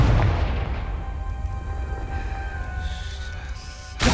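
Confringo fire spell explosion in the Hogwarts Legacy video game, a loud deep boom rolling into a rumbling decay, then an abrupt new burst at the end.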